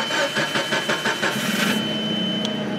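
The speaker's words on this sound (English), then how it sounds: "I'll go ahead and start her up and show you what she can do." A Nissan propane (LP) forklift engine, a 4,000 lb model, cranks with a rapid pulsing starter rhythm and then catches into a steady, loud idle close by.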